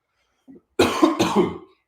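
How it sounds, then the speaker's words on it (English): A faint short throat noise, then a loud burst of several harsh coughs in quick succession, close by, with no talking. "Can you get your cough together?"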